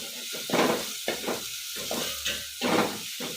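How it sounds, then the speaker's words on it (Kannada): Spices and ingredients for melaga rasam fry in a pan with a steady sizzle, stirred in short scraping bursts that rise and fall in loudness. "ಆ ಹಸಿ ಸ್ಮೆಲ್ ಹೋಗೋ ಸ್ವಲ್ಪ ಫ್ರೈ ಮಾಡ್ಕೊಳ್ತೀನಿ"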